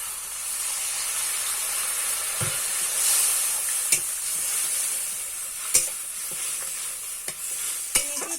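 A splash of water meets ground and paste cumin in a hot pan for Kashmiri aloo dum, giving a loud continuous sizzle and hiss broken by several sharp scraping stirs.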